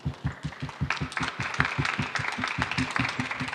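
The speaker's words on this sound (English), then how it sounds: "huge applause to Hansel and also Oliver" Audience applause for speakers at the close of a cultural talks event, heard as a fairly small group clapping in a quick, steady rhythm of distinct, close claps throughout.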